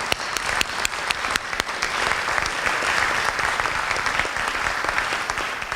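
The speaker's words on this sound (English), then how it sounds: "I think our speakers deserve a huge round of applause." An audience at an evening talk at a JCC applauds its speakers with dense, sustained clapping that holds steady and close for the whole stretch, with no voices.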